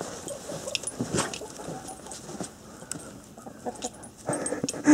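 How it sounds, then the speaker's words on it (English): Chickens and a rooster emerge from a coop on a snowy November day, with scattered soft clucks and rustling at moderate distance and a louder burst right at the end. "There comes a rooster."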